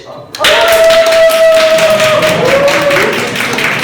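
Audience applause at a photography presentation, a dense burst of clapping that starts suddenly and holds loud and steady, with a tonal hum running under it.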